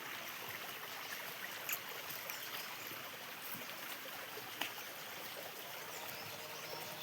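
River water flowing steadily under a bridge in Bageshwar, Uttarakhand, a continuous broadband rush with a couple of faint sharp knocks, steady and moderately distant, with no talking.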